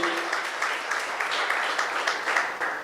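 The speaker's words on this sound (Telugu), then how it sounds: "ఒకసారి చప్పట్లు కొడదాం దేవునికి" Audience applause during a church sermon, broadband sustained clapping from a congregation for nearly three seconds, with faint speech underneath.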